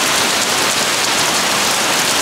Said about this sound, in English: You can't see the rain, but it's starting to get like harder rain.